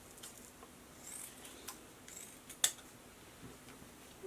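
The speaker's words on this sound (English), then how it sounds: "just get your scissors, just give it a little dovetail at the end there" Scissors snip the end of a ribbon into a dovetail for a handmade Easter egg wreath, a few faint quiet clicks with one sharper cut standing out.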